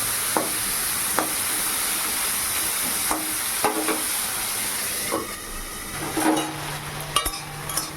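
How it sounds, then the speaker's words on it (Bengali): Spiny gourd frying in a wok, a constant close hiss broken by occasional clanks and scrapes of a spatula. "ওই কড়াইতে কাঁকরোল ভাজা হচ্ছে"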